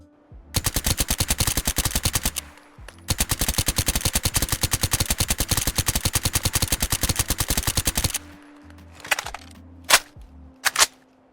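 Full-auto bursts from The Linda carbine with a drum magazine in Fallout 4, two long rapid strings of shots separated by a brief pause, then a few short close bursts and single shots with mechanical handling sounds.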